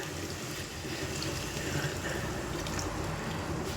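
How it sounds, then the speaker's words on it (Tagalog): Water poured into a cooking pot while a dish simmers, a steady splashing, gurgling stream running close and fairly loud for a few seconds with no talk over it. "Lagyan natin tubig."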